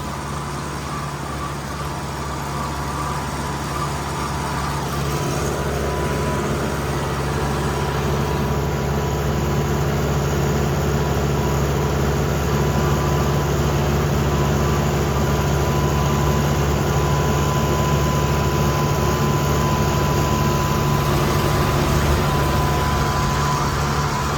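Tractor engine running steadily while ploughing a large field, a loud continuous low mechanical drone with a constant hum throughout, no talk.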